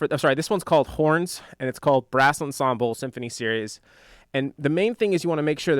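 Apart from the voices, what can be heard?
No distinct noise like a dog, phone or traffic.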